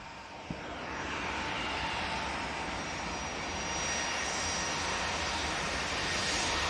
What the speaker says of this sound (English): beautiful looking aircraft